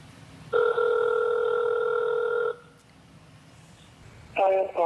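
A telephone ringback tone plays during an outgoing call, one long steady electronic ring lasting about two seconds and followed by quiet, then a short burst of another tone near the end.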